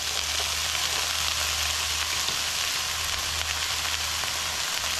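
Potatoes sizzle in a pan of wilting vegetables while filling for dairy-free Irish hand pies cooks, a steady, close, hissing fry that runs unbroken with no talk.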